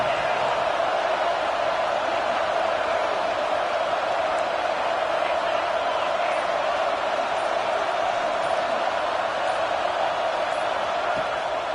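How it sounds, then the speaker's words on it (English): Football stadium crowd at an Auburn vs Alabama game, a dense, steady roar of cheering and noise that stays loud and unbroken throughout. "this crowd trying to help keep them there"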